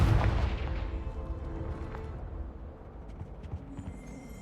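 A Confringo fire spell bursting in Hogwarts Legacy: one heavy, booming blast at the start that rolls off into a long, fading rumble.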